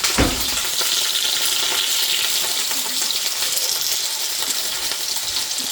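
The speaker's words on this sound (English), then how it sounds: "Now you can hear the sizzle on this." Food sizzles and crackles steadily in a hot frying pan while blueberry scrambled eggs are being made, a dense continuous hiss that stays loud and close throughout, with a sharp clink near the start.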